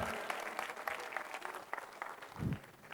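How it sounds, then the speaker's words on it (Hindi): A group at an academy gathering claps loudly for Tapan, a diamond member, with dense, sustained applause and a few faint voices mixed in. "दोस्तों, तपन के लिए जोरदार तालियां होनी चाहिए।"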